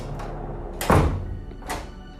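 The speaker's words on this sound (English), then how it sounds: "Harry and his wife hear a door in the basement" A single heavy door slam echoes up from a basement, one loud muffled thud, followed by a fainter second knock about a second later.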